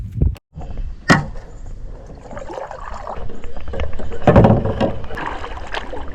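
A canoe or kayak is paddled on Beaver Dam Lake, with close knocks and splashy strokes against a steady outdoor background, including a sharp thump early on.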